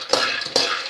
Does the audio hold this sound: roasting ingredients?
yes